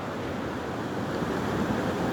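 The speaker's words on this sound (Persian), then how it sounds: "شما هم نبینین صدای موجهای دریا رو" Sea waves washing onto a shore, a steady broad rush of surf close by with wind noise on the microphone and no voices.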